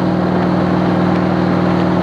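Harley-Davidson motorcycle engine running loud and close with a steady low rumble, alone with no voices.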